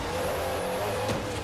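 A car driving on dirt in Forza Horizon, with a steady engine drone and gritty road noise held at an even loudness throughout.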